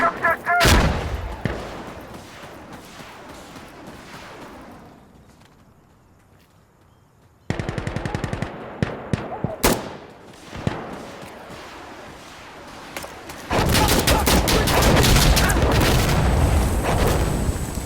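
Heavy gun turret firing in the video game Insurgency Sandstorm, a loud burst of booming shots followed later by a long, dense stretch of rapid automatic fire, with scattered impacts between.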